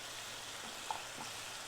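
Oil bubbles gently in a pan while potato fry with sesame cooks, a faint, steady low hiss with a couple of soft pops and no talking.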